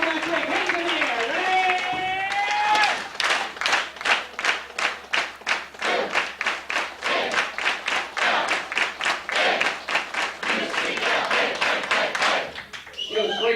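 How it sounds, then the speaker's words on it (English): A breakfast crowd at a 1994 UCLA football event claps steadily and loudly for several seconds, with a voice heard talking over the start and the crowd noise. "Hey, clap for Darren."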